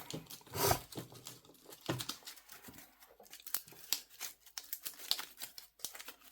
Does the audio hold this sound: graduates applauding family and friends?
no